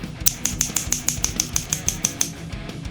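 Drums from an album with poor, skewed production: a fast run of about a dozen thin, clicky hits with a brittle, typewriter-like snap, evenly spaced and fairly loud, with no voices.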